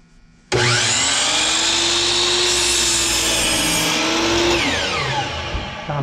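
Compound miter saw spinning up and slicing through wood at an angle, a loud close whine with a sustained tone and grinding cut, then winding down as the blade slows.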